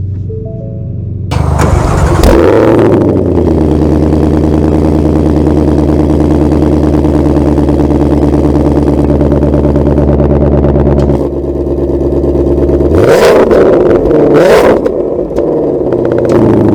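A Ford Shelby GT500 engine barks to life with a sharp rev, settles into a deep, throbbing idle for several seconds, then blips loudly twice more, heard up close.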